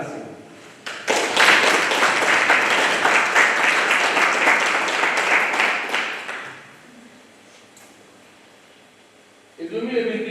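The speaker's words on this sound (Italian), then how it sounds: "Per tutte queste figure io credo che sia necessario un caloroso applauso" Warm applause breaks out in a hall at an Italian blood donation volunteers' association meeting in Budoni, sustained dense clapping for about six seconds before fading, then a voice resumes speaking near the end.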